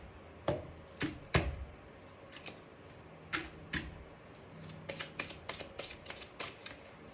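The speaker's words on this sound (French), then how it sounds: "je prends une dernière carte de l'oracle des cristaux" Oracle cards being shuffled by hand before one is drawn, a run of crisp riffling bursts and soft taps spread unevenly, close and fairly quiet.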